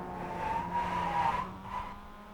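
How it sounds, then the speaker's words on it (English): On-board sound from a Mazda MX-5 race car at the Nürburgring Nordschleife, with a loud engine note and tonal whine that rises, dips as if a shift is missed, then recovers, all close and continuous with no talk. "as you could hear on board, you hear that maybe he missed a shift"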